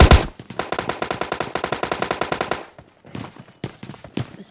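Rapid automatic gunfire in PUBG Mobile Lite, a loud sustained burst of evenly spaced shots for over two seconds, followed by a few scattered single shots.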